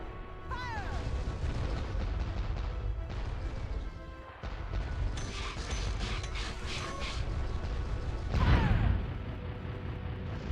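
Cannon fire from a pirate ship in Pirates: The Legend of Black Kat, a heavy blast bursting out near the end over a dense bed of clanking mechanisms and crashing game effects.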